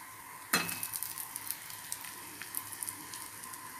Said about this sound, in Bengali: দেখো মশলাটা ফ্রাই হয়ে গেছে, আমি এর মধ্যে এবার টমেটো কুচিগুলো দিয়ে দিই।